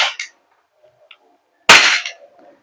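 An Umarex Glock 17 Gen 5 MOS gas airsoft pistol fires in a quiet outdoor setting, giving a sharp snap at the start and another louder crack with a short tail later on.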